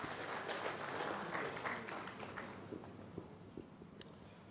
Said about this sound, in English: A round of applause for Hassan Andani,